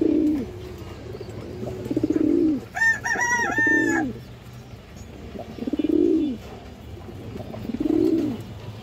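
A pair of domestic pigeons offered for sale coo in repeated low, rounded calls close by, with a brief higher-pitched bird call partway through over a faint background hum.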